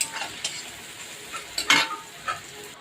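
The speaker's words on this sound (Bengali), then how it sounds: "তো পাশের চুলায় আইড় মাছ রান্না করব বলে পেঁয়াজ মরিচ দিয়ে" Onions and chilies frying in a pan for an aair fish curry give a faint, soft sizzle with a few brief stirring scrapes, heard close and quiet.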